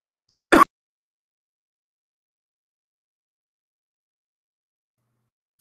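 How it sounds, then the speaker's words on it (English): A man clears his throat once with a short, sharp rasp, close to the mic, followed by near silence and a faint click at the very end. "I'm starting to cough."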